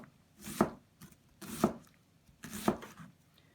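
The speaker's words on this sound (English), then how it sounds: "I'm just going to cut the other direction." A knife dices an onion on a cutting board, making three evenly spaced, fairly loud chopping thuds, each a short crisp strike with a brief scrape, close and clear with no talking.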